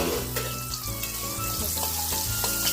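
Green peas sauté in a hot pan for Kathiyawadi eggplant olo, making a loud, continuous close-up sizzle broken by the scrape of stirring, with no voices.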